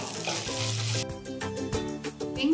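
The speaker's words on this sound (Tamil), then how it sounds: "இப்போ இது கூடவே கருவேப்பிலை ஆட் பண்ணிக்கலாம்." Curry leaves sizzling in hot oil with onions and ginger-garlic for a Madurai chicken kuzhambu, a loud, steady frying hiss with a few clinks and stirring scrapes.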